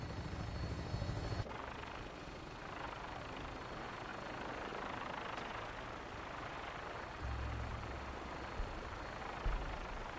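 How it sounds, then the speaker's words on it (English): A Vertibird aircraft from the video game Fallout 4 rumbles steadily with a loud, continuous rotor and engine drone that runs throughout, with a few heavier low thuds near the start and end. "Tinker's gonna keep the vertibird spooled for an immediate takeoff."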